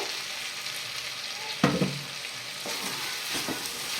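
Chicken with soy sauce is stirred in a hot pan: a continuous sizzle broken by a sudden loud scrape-and-clatter midway, then a few lighter spoon strokes, close up and without speech.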